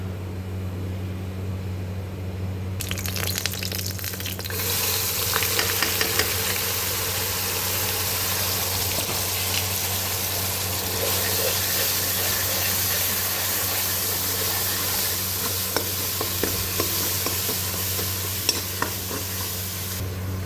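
Onion and chili paste hits hot oil with cumin and breaks into a sudden loud sizzle, then fries in a steady close hiss with occasional stirring scrapes, over a low hum.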